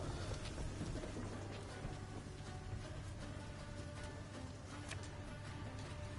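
Torrential rain and rolling thunder in the video game Thronebreaker, a faint, steady hiss of rain with low rumbling underneath and scattered sharper crackles, continuous throughout with no voices.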